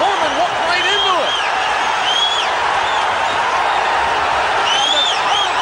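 A boxing arena crowd roars wildly after a knockdown of George Foreman, a loud, sustained wash of cheering heard under a ringside commentator's voice.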